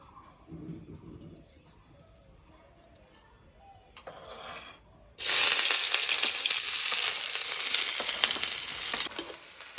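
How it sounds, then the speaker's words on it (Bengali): Chopped onion hits hot mustard oil in a well-heated wok, a loud sudden sizzle that swells and holds steady after a quieter stretch with faint bird cooing in the background. "এবার এর মধ্যে দিয়ে দেবো পেঁয়াজ কুচি।"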